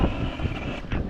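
Strong gusting typhoon wind with rain, roaring and buffeting close against the microphone in a dense, steady rush with small surges.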